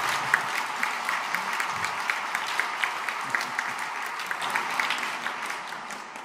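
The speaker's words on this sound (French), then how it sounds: "Julia, tu mérites un applaudissement quand même" A church congregation gives steady applause, many hands clapping in an even, continuous patter with sharper individual claps standing out, sustained throughout at a moderate level.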